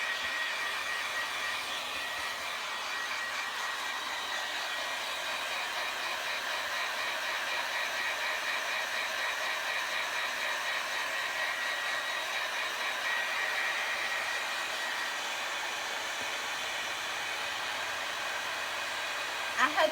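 A hair dryer blows on fresh paint in a steady, even whoosh that holds for about twenty seconds, close and constant with a faint whine on top.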